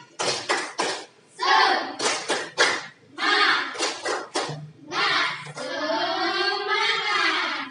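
A primary school class claps the rhythmic 'tepuk semangat' pattern in short, punchy bursts separated by pauses. Children's voices chant along with the claps and hold a drawn-out call at the end.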